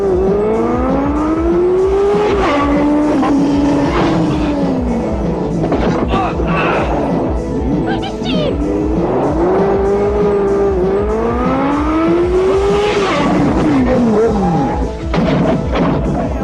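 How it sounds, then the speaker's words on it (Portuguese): Car chase scene from the 1990 Captain America film: a pursuing car's engine revs and whines with rising and falling pitch, tires squealing at moments, loud and continuous with film score and effects layered around it. "o carro que os persegue deve estar com alguma pane"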